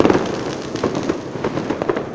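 New Year fireworks exploding repeatedly outdoors, a dense run of booms and crackles with several louder bursts standing out, continuous with no talking.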